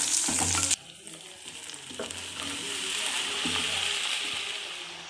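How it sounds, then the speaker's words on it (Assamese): Panch phoron spices, bay leaf, chillies and tomato pieces hit hot oil with a loud burst of sizzling, then settle into a steady, close crackle broken by several stirring scrapes. "তেল গৰম হ'ল আৰু ইয়াতে মই অকণমান পাঁচফোৰণ দুটামান দি দিওঁ লগতে তেজপাত জলকীয়া দি দিওঁ বিলাহীকেইডোখৰ দি দিওঁ"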